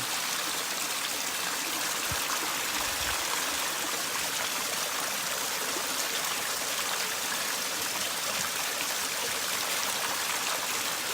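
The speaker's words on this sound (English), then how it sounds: "looks like a good fresh stream of water" Steady broadband rush of a flowing fresh stream on the Ouachita Trail, constant and fairly close, with no voices.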